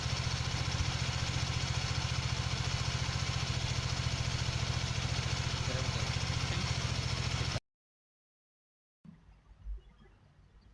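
A motorcycle engine idles steadily and loudly near its exhaust pipe, a dense even chugging for about seven seconds that then cuts off abruptly into silence, followed by faint low handling noise.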